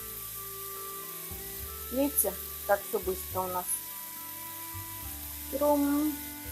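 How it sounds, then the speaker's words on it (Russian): A steady, soft sizzle of chicken fillet frying in a pan over fairly high heat runs throughout, while a person speaks briefly over it. "На большом довольно-таки огонечке мы переворачиваем наше куриное филе"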